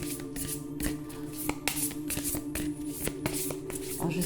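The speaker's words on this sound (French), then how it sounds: "Alors, je prends les cartes." Oracle cards are shuffled by hand in a quiet room, a close series of crisp riffling slaps and flicks repeating in an uneven rhythm, with no talk over them.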